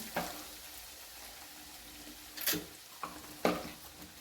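Ground peanut and garlic paste sautéing in hot tempering oil, a quiet low sizzle broken by a few sharp spatula scrapes and pops.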